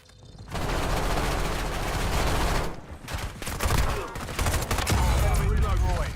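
Heavy video game gunfire, a near-continuous loud fusillade of overlapping automatic shots and impacts. It pauses briefly near the middle, then returns just as dense, with bursts and a few sharper cracks toward the end.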